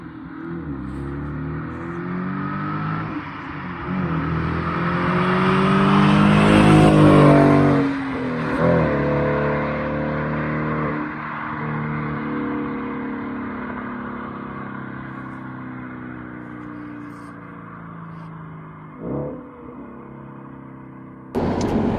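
An Audi S5 V8 engine revs and accelerates, rising to a loud roar before easing off into a steady drone, with a few short throttle blips toward the end.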